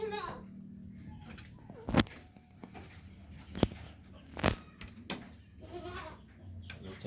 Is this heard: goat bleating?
yes